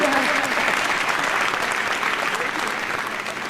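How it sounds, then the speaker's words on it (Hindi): An audience at a Hindi poetry or comedy event claps loudly and steadily, a dense, sustained round of applause from a large crowd that fades slightly toward the end. "एक बार जोरदार तालियां बजाइए अगर समझ में आ रहा।"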